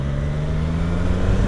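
A Triumph Tiger 660 Sport motorcycle riding and braking, with a fairly quiet, discreet engine producing a steady, even mid-low hum, with no other sounds.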